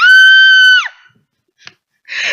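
A single high, sustained scream that holds for most of a second before breaking off, followed by brief quieter vocal sounds, heard alone without talk.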